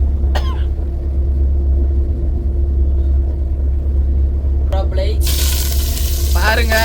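Mustard seeds drop into hot oil and burst into a loud, hissing sizzle near the end, over a constant low rumbling hum. Coughs and brief voices come before and during it.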